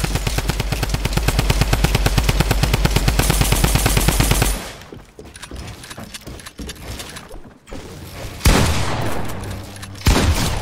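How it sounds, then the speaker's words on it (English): Drum gun in the Fortnite video game firing a long, rapid automatic burst for about four seconds, followed by scattered shots, explosions and game noise during a live in-game event. "Have a drum gun!"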